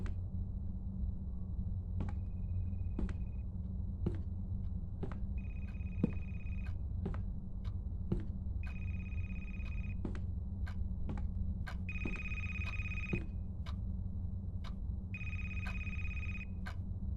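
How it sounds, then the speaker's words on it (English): Telephone ringing inside the video game A Place Forbidden, a repeated electronic ring in bursts that grow longer and louder toward the end, over a steady low ambient hum with occasional sharp clicks. "Is that a phone?"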